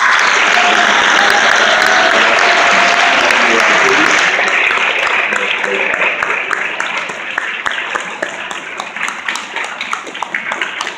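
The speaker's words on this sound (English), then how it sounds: "let's give them a round of applause" A presentation audience gives a loud, sustained round of applause that thins toward the end, with voices mixed in.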